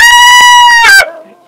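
Chickens kept through extreme cold at over 6000 feet in Wyoming give a loud, close run of harmonic calls with rhythmic clucks, ending in a rising squawk that fades into quieter background.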